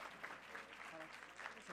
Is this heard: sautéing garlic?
no